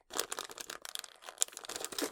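A plastic static bag is crinkled and worked at in an attempt to tear it open, giving close, dry rustling and crackling in quick uneven bursts with no talking.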